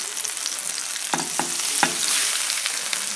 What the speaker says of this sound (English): But you want to make sure it sizzles when you put it in there.